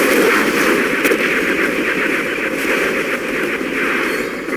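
Rockets from a Comanche attack helicopter in the real-time strategy game Generals Zero Hour, during a USA versus China battle on the Alpine Assault map, form a loud, dense barrage of rapid repeating bursts over a steady roar, with no voices.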